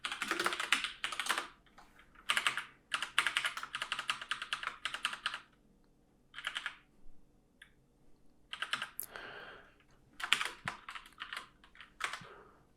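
Bursts of rapid typing on a computer keyboard, with quick clattering runs broken by short pauses, close and fairly clear with no talking.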